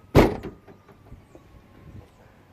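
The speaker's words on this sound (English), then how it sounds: "Let me shut the door." A Honda CR-V door, on an off-road lifted build, is shut with a single solid thump, followed by faint rattles and a quiet tail in an outdoor setting.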